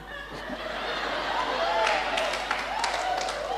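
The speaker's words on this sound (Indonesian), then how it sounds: "Kasih tepuk tangan buat dia." A church congregation claps and laughs, the applause rising into a steady patter of many hands with scattered chuckles and voices mixed in, at moderate distance.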